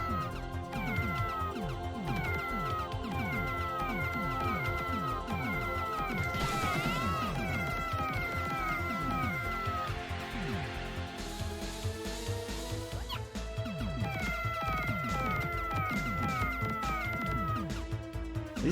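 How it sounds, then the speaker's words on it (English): Cartoonish cat meows repeat rapidly in the Sega CD shooter Keio Flying Squadron, sounding over looping game music and effects with a crash-like burst partway through. "Yeah, all the meows."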